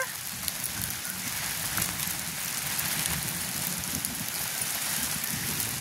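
Steady, dense downpour of heavy rain, a continuous broadband hiss with pattering drops throughout, close and loud with no voices.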